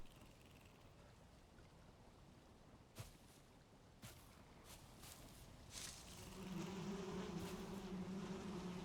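Bees buzz in Valheim, a faint, steady insect hum with a few sharp knocks; the buzzing swells and grows louder near the end, with no talk.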